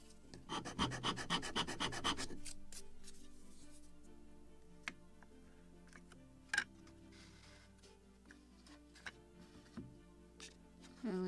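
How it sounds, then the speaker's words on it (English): Beveling the edge of a wooden plank for a model ship of the 1776 gunboat Philadelphia: quick rhythmic rasping strokes at first, then sparse quiet scrapes and ticks, close and faint. "beveling this edge."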